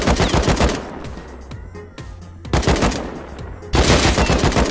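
Loud, close gunfire from the video game Rust comes in several sustained automatic bursts separated by short pauses, with rapid shots cracking one after another.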